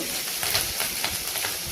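Steady crackling sizzle of chilies frying in hot oil, with sharp spitting pops scattered throughout, close and fairly loud.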